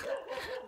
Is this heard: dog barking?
yes